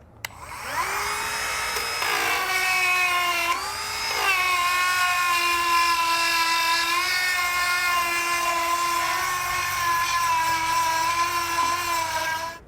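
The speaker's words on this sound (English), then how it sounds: "So now we're just going to take our time here and clean out the inside of our hole" A power tool spins up and steadily grinds while cleaning out the inside of a bumper mount hole on a 2016 Jeep Wrangler, a sustained high-pitched whine that briefly dips and restarts, then runs close and loud until it stops.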